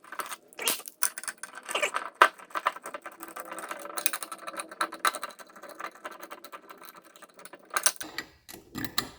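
A ratchet tightens bolts on a Zenith 40 TIN 3-barrel carburetor, producing close, repeated quick clicking bursts with brief pauses between strokes and a few metallic knocks.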